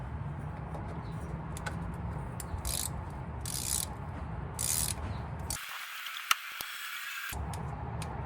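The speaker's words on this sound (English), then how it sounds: "put the ratchet right in and tighten her up" Ratchet clicking as a drain plug is tightened under a Ford Mustang Foxbody, with bursts of quick metallic pawl clicks spread across the clip over a low garage background.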